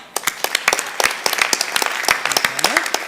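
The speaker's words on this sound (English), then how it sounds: "Give a round of applause." Audience applause at a startup launch conference presentation, a crowd clapping steadily for about three seconds with sharp individual claps standing out, while a voice speaks briefly over it near the end.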